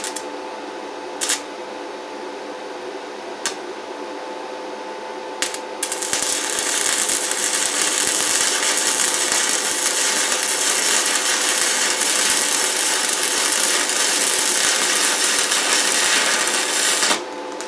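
A cheap spool gun welder lays a steady, loud, continuous crackling buzz of welding that runs for about twelve seconds, preceded by a few sharp clicks.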